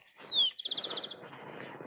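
Small birds chirp faintly: a thin descending whistle followed by a quick run of rapid chirps, then softer rustly twittering trailing off.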